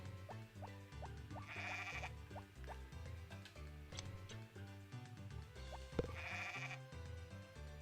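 Sheep bleat a couple of times in the Harvest Moon farming game, bright calls rising over steady, looping background music with plucked notes.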